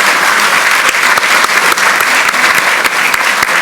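Lawmakers-elect at a National Assembly party meeting give a loud, sustained round of applause to approve a nomination, dense clapping close by with no talking.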